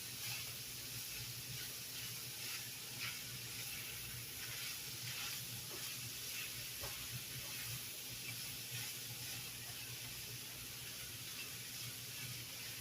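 Peppers sizzling as they cook in a pan for homemade sloppy joes, a steady hissing fry that runs continuously with faint crackles throughout, no voices.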